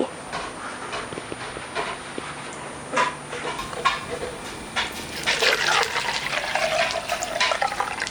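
Water poured into a bottle, a gurgling, splashing flow that builds and fills toward the end, close by, with faint outdoor background noise.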